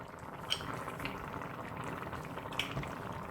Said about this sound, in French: Donc là, je vais introduire les petits pois. Je vais aussi ajouter les moules.